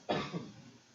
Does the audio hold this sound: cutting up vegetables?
no